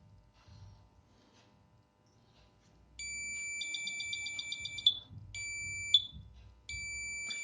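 Piezo buzzer on a homemade 555 timer water level alarm sounding when the tank fills: a loud, steady high-pitched electronic tone that pulses and breaks off several times over low background noise.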